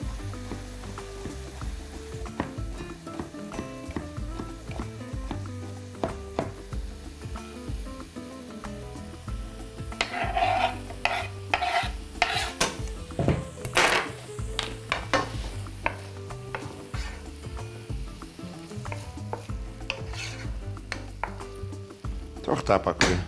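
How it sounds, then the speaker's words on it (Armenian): Ham sizzles and fries in oil in a pan while being stirred, a continuous close crackle broken by scraping and clattering of a utensil against the pan. "Թող տապակվի"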